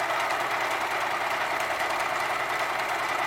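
A sewing machine stitches a cloth mask cover, a continuous fast mechanical whir and rattle, close and steady throughout with no pauses or voices.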